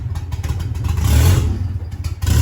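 A pickup truck engine revs and strains under acceleration, a loud, close, low rumble that rises and swells midway, with clattering on top.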